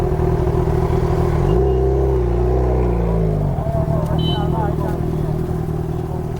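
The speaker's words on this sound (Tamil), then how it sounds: "ப்ரோ எக்ஸாக்ஸ்ட் பயங்கரமாக இருக்கு, சரியா இருக்கு சவுண்டு" A superbike exhaust revs loud and close at a biking meet, a steady roar that rises and falls through throttle blips, with people talking over it.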